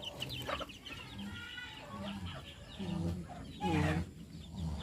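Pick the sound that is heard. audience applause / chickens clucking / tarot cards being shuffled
chickens clucking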